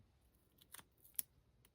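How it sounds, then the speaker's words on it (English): Scissors snipping foam tape while making a handmade card: a few quiet, sharp cuts spaced apart, with the clearest snip near the end, in an otherwise quiet room. "we'll go ahead and cut some foam tape"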